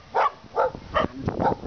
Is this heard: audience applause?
no